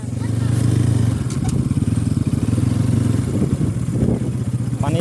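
A motorbike ridden along a road, its engine droning loudly and close with a steady throbbing beat, a rider speaking over it now and then.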